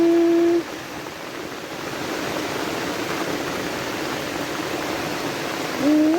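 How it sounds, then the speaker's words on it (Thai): Floodwater rushing and flowing during heavy rain and flooding makes a steady, loud, broadband roar that fills the whole clip, with a brief whistling tone at the start and end. "น้ำไหลหลากเลย"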